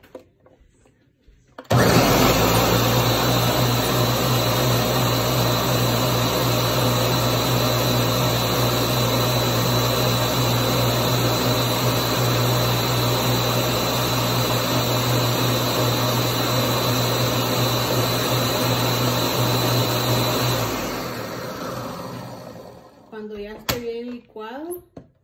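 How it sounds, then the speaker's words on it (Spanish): A blender whirs steadily for about nineteen seconds as it blends a vanilla-and-sugar popsicle mixture, loud and close, starting abruptly and cutting off near the end, followed by brief faint sounds. "De esta manera voy a empezar a licuar."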